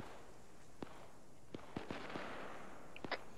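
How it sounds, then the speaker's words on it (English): Muffled outgoing mortar fire at a field training exercise, several dull thumps scattered at irregular intervals, some distant and one closer, over steady outdoor background noise with no clear speech. "are those friendly mortars going out?"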